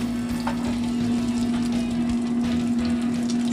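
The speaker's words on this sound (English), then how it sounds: "let's saute the garlic until it's just about golden" Garlic sautéing in a hot pan gives a steady, close sizzle and crackle that carries on evenly the whole time, with a constant low hum behind it and no talking.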